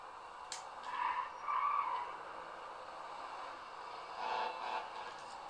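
A car braking and skidding in GTA 5: two swells of tyre squeal and engine noise, moderately faint and fading between them, with a sharp click at the end.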